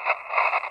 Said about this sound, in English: but even on 20 meters, so much static right now.